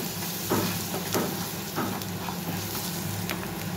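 Butter garlic chicken frying in a pan, a steady close sizzle and hiss with faint periodic stirring scrapes, no voices.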